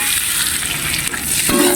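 Chopped red chili sizzles steadily in a frying pan while pasta with prawns is being cooked, a constant close hiss of frying that lifts sharply near the end as more ingredients hit the hot oil.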